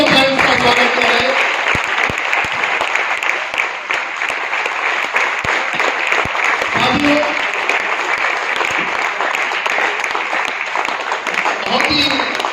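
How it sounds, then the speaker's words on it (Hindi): An audience at an RCM seminar in Jind gives loud, sustained applause to welcome guests, a dense, continuous clatter of many hands lasting the whole stretch, with a voice over the loudspeaker speaking through it now and then. "एक बार जोरदार तालियों से सभी अप्लायंस का स्वागत किया जाए"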